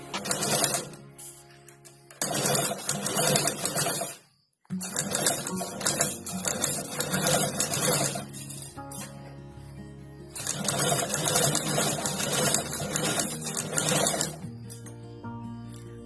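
Sewing machine stitching a chain strap onto a fabric bag, running in loud, steady mechanical bursts with brief pauses between runs, close up and without talk.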